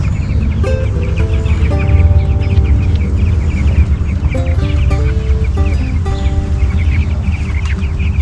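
Chickens clucking steadily on a farm, several birds calling over one another in a continuous close chorus with a low rumbling background.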